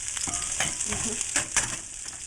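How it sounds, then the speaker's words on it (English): Ten cloves of garlic cut into chunks sautéing in olive oil, a bright continuous sizzle close up with a few scraping stirs in the pan and no talking. "this is 10 cloves of garlic that I've cut up just into chunks, and now we're going to just saute those"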